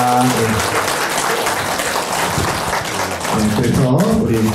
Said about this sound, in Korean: 여러 스님들에게 우리 감사의 박수 한번 크게 한번